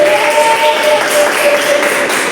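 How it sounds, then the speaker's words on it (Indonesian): A class of students gives a short burst of steady, dense clapping, fairly loud and close, lasting a couple of seconds. "Berikan tepuk tangan untuk"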